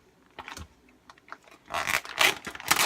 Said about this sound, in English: I'm just cutting this bacon open because I want to cut it in half.